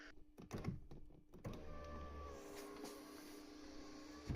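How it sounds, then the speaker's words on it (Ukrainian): The power window of a VW Touareg closes automatically after a switch repair, with a few clicks of the button followed by a steady, faint electric motor whine. "І автоматичне закриття працює."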